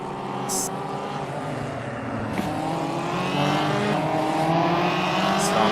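Open-wheel Formula 1 junior series race cars from an ESR racing video game, lapping the Portimao circuit: a steady, loud multi-engine drone with shifting pitch and pass-by sweeps runs throughout, with commentary faintly present underneath.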